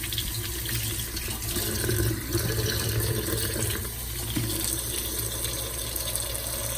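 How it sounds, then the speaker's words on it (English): Hands washed under a running kitchen tap, a steady close rush of water splashing into the sink with shifting gurgles as the hands move, no talk. "I'm just washing my hands"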